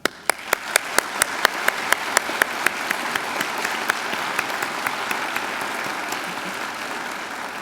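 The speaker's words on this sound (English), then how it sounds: "I would like to ask you to join me in applauding their A+ performance" Graduation ceremony audience applauding the graduates' teachers: a broad, steady wash of clapping from a large crowd, with a few sharp, close individual claps standing out above it, fading slightly toward the end.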